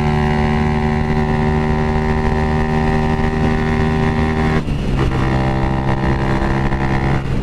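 Honda CG 190 motorcycle riding in a group with other motorcycles, a loud, steady engine drone with a constant tonal hum that briefly dips midway and then carries on, with no talking.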